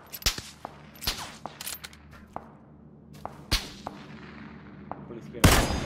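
Sporadic gunfire in a PUBG battle royale match: scattered sharp cracks, some distant and faint, others nearer, ending in a loud close burst, with no one speaking.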